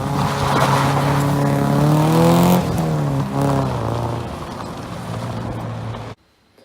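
Race cars roar past at close range, one of them turbocharged, with a loud continuous engine drone whose pitch rises and falls through about six seconds before cutting off abruptly.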